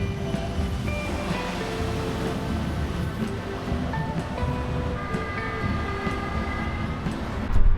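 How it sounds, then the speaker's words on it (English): Diesel tram running on a shared railway line in Elbe, a steady rumbling rail noise with wheel hum and faint squeal tones, continuous and fairly loud throughout with a sharper burst at the end. "I am at the diesel trams in Elbe."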